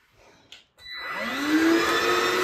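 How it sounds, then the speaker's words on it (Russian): A large robot vacuum cleaner starts up after a brief click and pause, its whine rising quickly into a loud, steady whirring drone that runs on at close range. "Пылесосик. Говорят, что он сам практически работает."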